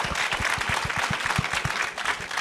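Audience applause at a panel event on AAPI cultural heritage, a steady dense clapping from a crowd that fills the room, with low thumping hand claps running through it at an even level and no voices.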